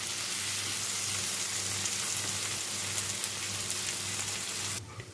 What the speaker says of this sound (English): we're going to cook these until the tomatoes have softened